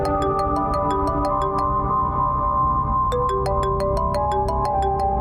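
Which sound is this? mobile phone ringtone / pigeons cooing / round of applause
mobile phone ringtone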